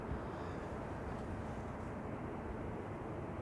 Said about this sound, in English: Embraer 190, arriving from London City. KLM flight 618.